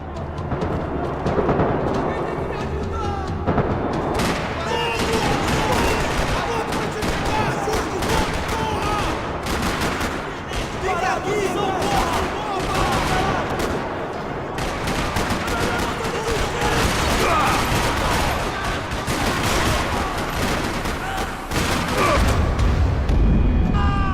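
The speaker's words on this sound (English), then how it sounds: "Another parking lot rattling with gunfire." Dense, continuous gunfire rattles throughout, with rapid bursts and booming shots layered into a loud, chaotic battle soundscape in the video game Max Payne 3.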